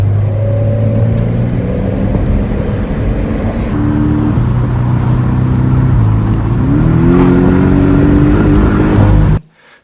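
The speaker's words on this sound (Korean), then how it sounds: "자연흡기 엔진의 음색은 바로 저음부터 고음까지 고르게 분포되어 있으면서도 엔진 사운드의 필링이 정말 좋게 느껴지는 그런 엔진입니다." A Porsche 718 Boxster GTS with a naturally aspirated 4.0 engine revs loudly and steadily, its note climbing in pitch partway through before cutting off abruptly at the end.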